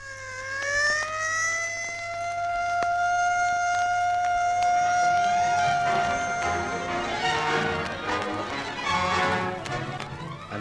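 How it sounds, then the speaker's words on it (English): An ambulance siren wails loudly through a night scene on hedge-lined country roads, a long rising tone that holds steady before breaking into busy clatter and tapping as the siren fades into the mix. "A siren screaming through the night."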